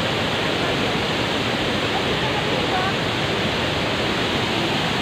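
Bolinao Falls waterfall roars as a dense, steady broadband rush of falling water, loud and close, unchanging throughout.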